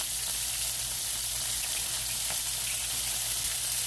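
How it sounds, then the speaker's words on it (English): Broccoli fries in a skillet with a steady, dense crackling sizzle that stays even and close throughout. "I'm just going to lay it right on here"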